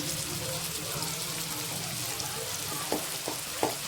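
Onion, ginger paste and chopped potato fry in a wok with a steady, loud sizzle throughout, a few clinks of stirring near the end, and a voice talking over it.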